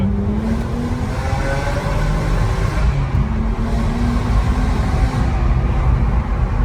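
Engine of a BMW car pulling hard with a steady, loud drone and a rising pitch as it accelerates, heard up close and continuous throughout with no talk over it.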